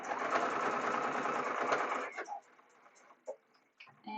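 A sewing machine runs a steady, fast stitching line across a fabric bag for about two seconds, then stops, leaving a few soft clicks and handling noises.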